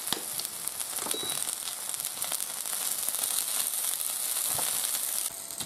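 Sausages fry in a pan at a home kitchen breakfast, giving a soft, continuous sizzle with scattered crackles and pops.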